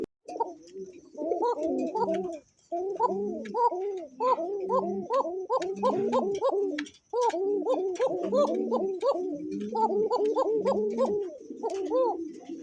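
Pigeons coo repeatedly at a breeding farm, the rounded calls overlapping in steady rolling phrases with two brief breaks, close and clear.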